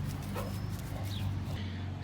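A dog in a backyard gives a few short yips and whimpery barks over a steady low hum, fairly faint and scattered across the moment.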